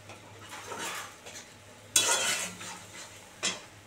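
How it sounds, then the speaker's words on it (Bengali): Masala for doi potol curry, with turmeric, Kashmiri red chilli and salt, stir-fried in a pan. Soft scraping strokes and light metal clinks ride over a faint sizzle, with two sharper, louder scrapes near the end. "মশলাটা একদম ভালো করে কষানো হবে।"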